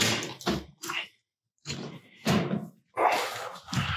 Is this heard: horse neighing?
no